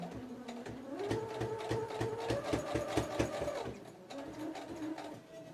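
A sewing machine runs steadily, stitching a hem on small rabbit doll clothing, with a brief pause before a short reverse burst for the backstitch; the motor whirs and the needle taps rapidly and close, with no talking.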